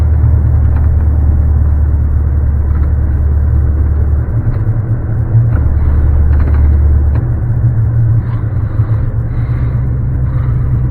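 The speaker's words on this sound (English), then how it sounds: "A POV drive of the Chevrolet Corvette C4" A 1989 Chevrolet Corvette C4 with a six-speed manual rumbles steadily from inside the cabin while driving, its deep engine drone loud and constant throughout.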